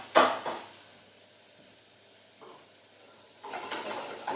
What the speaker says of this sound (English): I'm just going to stir it in this, yeah, which is a bit of a bigger pan.